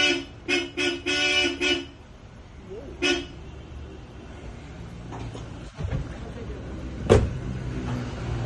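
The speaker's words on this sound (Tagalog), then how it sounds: "Old model pero yung busina napakalakas po." Bosch Europa horns fitted to an old-model Isuzu Crosswind blast in a burst of short, loud toots, followed by a single honk and a later one, with quieter background noise in between.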